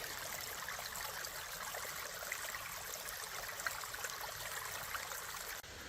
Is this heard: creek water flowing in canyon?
yes